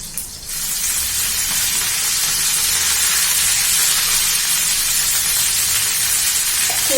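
Fenugreek greens hit a hot pan of oil with salt, green chili and garlic, giving a loud, steady sizzle and hiss that holds evenly for about seven seconds with no one talking.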